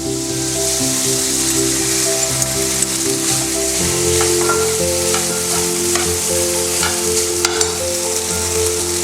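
Rice and peas fry in a mix of butter and oil with a steady, loud sizzle and occasional stirring scrapes, the hissing continuous throughout with a low background hum.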